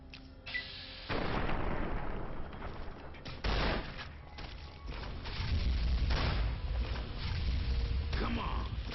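Shotgun blasts in the video game Fallout: New Vegas at Primm, several heavy booming shots and bursts amid chaotic combat noise, with a voice talking over parts of it.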